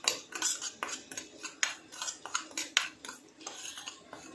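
A metal spoon repeatedly clinks and scrapes against a pot or bowl while stirring spices including dry mango powder, a steady run of small knocks and rattles up close.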